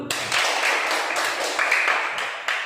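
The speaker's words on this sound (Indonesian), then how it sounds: "Bagus, tepuk tangan dulu." Children clapping together in an Indonesian classroom, a dense, continuous burst of many small hands applauding in uneven surges, fairly close and loud.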